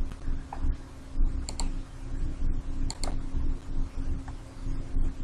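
Keys clatter on a computer keyboard in steady bursts of close, crisp clicks at a quick typing rhythm, with a faint steady hum behind and no talking.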